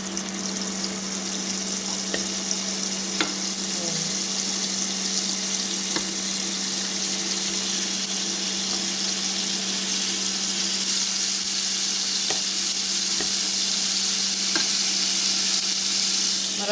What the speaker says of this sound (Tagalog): I-fry lang natin siya ng konti na mag-dark brown.